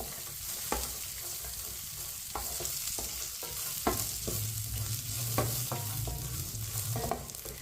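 Dry fruits roast in a hot pan while a spoon stirs them, a soft steady sizzle broken by repeated light scraping clicks of the spoon against the pan, close and fairly quiet.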